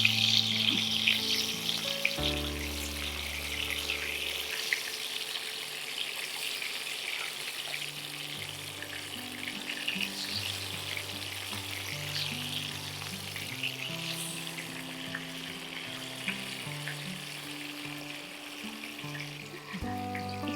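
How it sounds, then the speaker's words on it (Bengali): Hilsa fish fries in hot oil with a steady, close crackling sizzle that carries on throughout, spattering now and then, while a faint tap of a utensil sounds once or twice. "না না, অল্প ভাজবো।"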